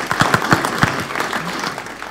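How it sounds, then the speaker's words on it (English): A brief burst of audience applause at a 2013 New York energy technology pitch event, a dense patter of many hands in a room that thins out within a couple of seconds. "Round of applause."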